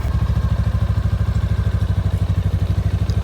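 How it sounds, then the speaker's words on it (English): A Honda Rebel 500 motorcycle engine idling after an oil change, a loud close low thumping pulse in a fast even rhythm, running steadily throughout. "Start the bike again, but this time you only need to run it for about 20 to 30 seconds"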